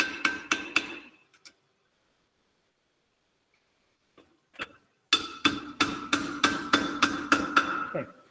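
Hammer blows setting an eye hook: sharp metallic strikes in quick runs, a short burst at the start, then a pause and a longer steady series of close, ringing taps.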